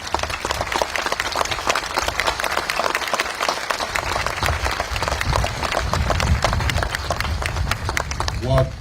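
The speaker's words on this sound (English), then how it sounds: "let's give her a round of applause" Audience applause at a First Amendment memorial event, dense clapping from a crowd filling the whole stretch, near and loud with a murmur of voices in the room.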